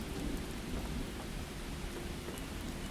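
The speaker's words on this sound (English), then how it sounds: "Because it's raining" Steady rainfall with a low thunder rumble in the survival video game Miscreated, a dense, continuous wash of rain at an even level with no voices.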